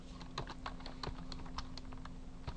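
Keys on a computer keyboard are tapped in a quick irregular run of soft clicks, close and quiet, while an integer is typed into a Java program.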